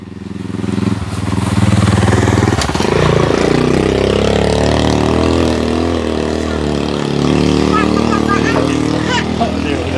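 A motorcycle engine roars loudly and close on a mountain trail, rising as it passes, under excited shouting voices throughout.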